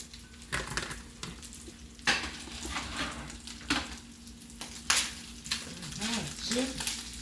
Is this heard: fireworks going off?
no